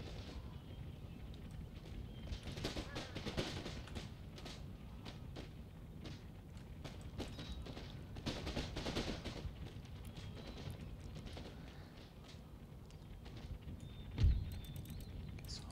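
Massed musket volleys from line infantry firing on a building in Empire Total War, a steady crackle of distant gunfire rolling through the whole stretch with one louder thump near the end.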